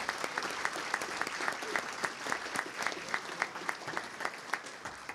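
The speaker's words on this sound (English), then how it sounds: "Let's give all our sponsors a round of applause," An audience at a business lunch claps for the sponsors, a moderately distant, even patter of many hands with a few louder individual claps standing out.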